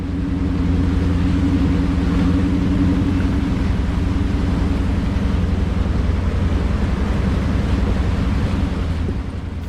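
A four-wheel drive vehicle pushes through a long river crossing near Kalgan Pool, its engine rumbling low and steady under continuous splashing water and wind noise.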